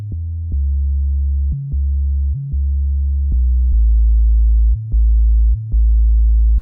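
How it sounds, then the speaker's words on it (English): A smooth, synth-like bass line plays a simple sequence of sustained low notes with brief gaps between them, clean and alone. "a bass also comes in the choruses."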